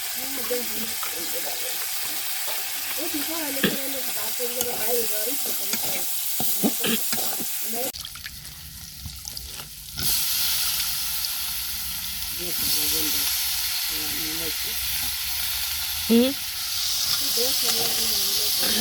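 Chicken with dried fish sizzles and hisses in a pot, with stirring scrapes, under intermittent speech; a steady frying hiss carries throughout, briefly louder and broader midway.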